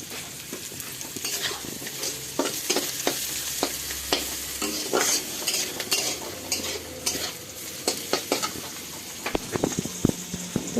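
Chowmein stir-frying in a pan until browned, with a spatula scraping and clattering in quick irregular strokes over a steady close sizzle, and no talking.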